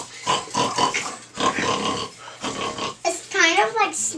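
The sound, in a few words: child imitating a pig's oink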